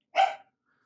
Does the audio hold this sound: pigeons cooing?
no